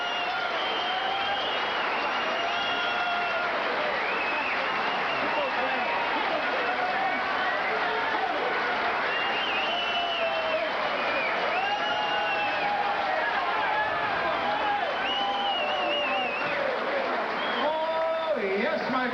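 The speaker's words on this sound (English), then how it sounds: "Let's listen to the crowd." A boxing arena crowd roars, cheers and applauds right after the fight ends, a dense, loud, sustained wall of clapping and shouting with scattered whoops that swells and holds throughout.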